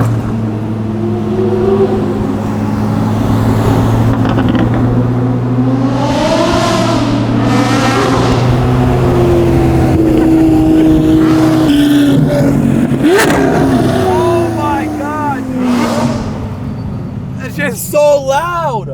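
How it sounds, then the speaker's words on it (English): A loud Cadillac Escalade engine revs up and falls back several times on a street, its deep roar rising and falling in pitch close by while people talk excitedly over it. "So loud. Oh, it's the best sounding car."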